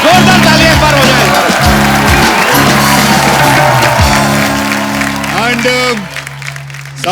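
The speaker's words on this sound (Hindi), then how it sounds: "जोरदार तालियां एक बार हो जाए।" Studio audience applause on a TV comedy show, loud and sustained across the whole stretch, with music and a voice running over it.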